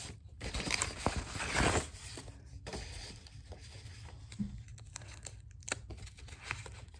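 Tape pulled from a roll and torn while crafting a decorated mug, a steady crinkly ripping texture for several seconds, louder near the start, over low room noise with no talking.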